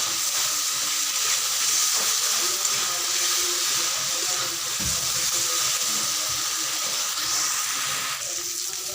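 Spices sizzle and fry in a pan for a foli fish curry, making a steady, close hiss that runs on without a break.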